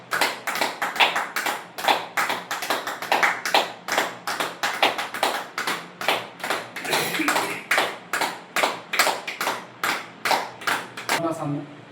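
A group of people clap their hands together in a steady, regular rhythm, about two claps per second, loud and sharp throughout, with a brief flurry of faster claps at the very end.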